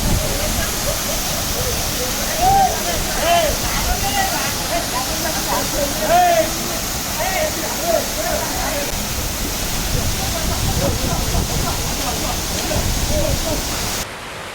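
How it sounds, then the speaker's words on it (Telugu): Ranajilleda waterfall in Araku gives a steady, broadband rushing roar that fills the whole clip, with people talking and exclaiming over the constant water noise. "ఇక్కడ ఇదిగో చూసారా అంత బాగుందో కదా వాటర్ ఫాల్స్"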